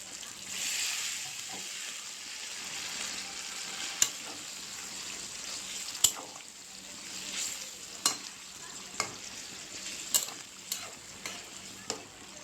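Meat and potatoes fry in a pan with a steady close sizzle, broken by several sharp scrapes and knocks of a utensil stirring against the pan.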